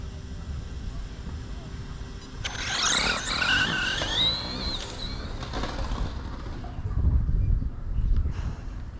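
RC drag car braking hard at a drag racing test session, a rising squeal of tyres sliding across the surface for a couple of seconds over steady outdoor background noise.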